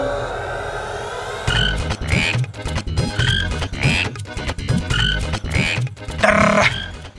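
A voice imitates a frog's croaking, a run of repeated throaty bursts in a quick, uneven rhythm, close and fairly loud.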